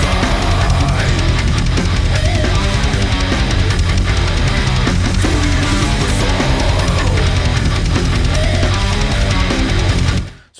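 Brutal death metal pounds at full volume with dense distorted guitars and relentless drums, then cuts out abruptly at the end.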